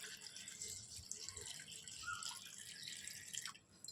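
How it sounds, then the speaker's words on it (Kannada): Water poured into a container for a homemade lime digestive juice, a steady soft trickling and dripping stream running throughout, faint and close, with no talk. "ಈಗ ಇದಕ್ಕೆ ನೀರು ಹಾಕೋತೀನಿ ರೀ."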